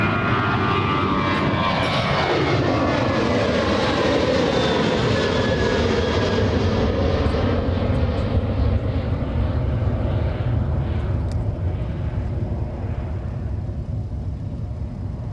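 An Alaska Airlines jet takes off at Anchorage airport with a loud, sustained engine roar whose pitch sweeps downward as it climbs away, then slowly fading into the distance.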